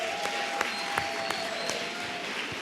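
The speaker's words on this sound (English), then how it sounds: "Round of applause for these folks." Applause from an audience at a school honor roll awards ceremony, moderate steady clapping with a few sharper claps standing out near the microphone and a faint sustained tone in the background.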